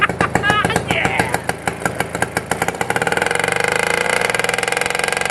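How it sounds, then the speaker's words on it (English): A cheap outboard motor bought secondhand runs steadily, its engine pulsing in a fast regular beat that speeds up and thickens partway through, with excited voices talking over it early on. "I have bought the cheapest outboard off Facebook Marketplace, and it's a runner."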